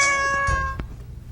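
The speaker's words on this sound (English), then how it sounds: "Your kitty cat says someone is trying to call you." A house cat meows once, a drawn-out tonal cry standing clearly above a low background hum indoors, with no one speaking over it.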